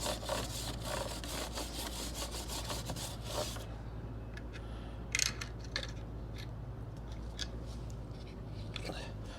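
Stiff-bristled brush scrubbing the chain of a Ducati Monster 696 motorcycle, with rapid rhythmic rasping strokes at first, then slower, sparser scrapes and knocks over a steady low hum.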